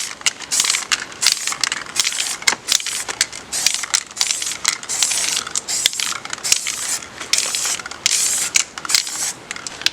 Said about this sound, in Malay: Okay, exhaust kita dah spray.